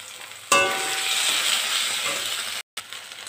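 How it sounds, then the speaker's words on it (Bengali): Ginger, onion and garlic paste sizzles in hot oil in a pan, a sudden loud burst of frying that settles into a steady crackling hiss, then cuts off briefly near the end. "আদা পেঁয়াজ রসুনটা ভাজা হয়ে গেছে"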